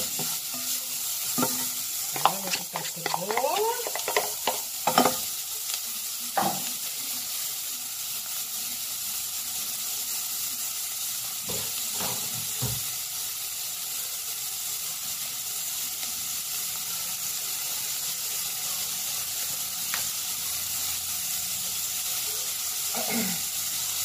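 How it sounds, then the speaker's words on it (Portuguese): Ground beef fries steadily in a pan for Brazilian rice balls, a broad constant sizzle with scattered scraping stirs and utensil knocks near the start, no talk. "Deixar ele fritar ali."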